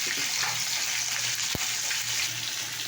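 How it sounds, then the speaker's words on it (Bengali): Water hits a pan of sizzling tempered spices with mustard, turmeric and chili, making a dense, loud, hissing fry that holds steady for a few seconds, with one low thump partway through. "এই দেখো আমি এখানকার জল ঢেলে দিলাম"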